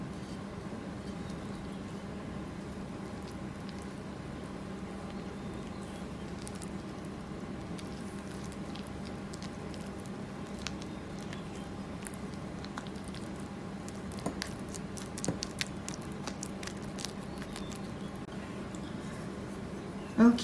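Homemade play dough being mixed by hand, a steady soft scraping and squishing texture with faint irregular taps near the end, close and quiet, no voices.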